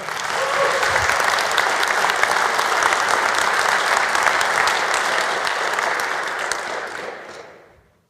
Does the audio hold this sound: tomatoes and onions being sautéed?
no